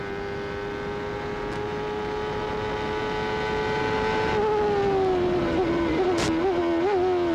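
A 1994 CART IndyCar race car on the Toronto street circuit holds a loud, steady high-pitched engine note as it blasts down the straight, climbing toward top revs before small wavering dips near the end, with no talk over it.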